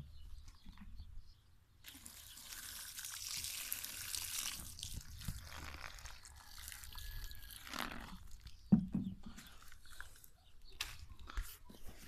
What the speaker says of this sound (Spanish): vamos a echarle una poquita de agua.